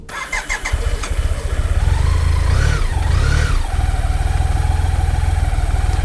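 A BMW K75S motorcycle, revived after sitting ten years, starts with a few sputters and settles into a loud, steady engine drone, rising briefly in two revs before holding a smooth idle close by.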